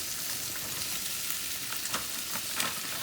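Chicken and steak sizzle and crackle in a hot pan, a dense steady frying hiss with scattered pops and faint stirring, heard close with no talking.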